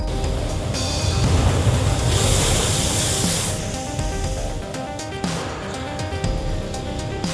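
Strong sea waves surge onto the Kollam and Alappuzha shore in Kerala, a loud, continuous roar and hiss of breaking surf that swells in the middle and then eases, with no voices.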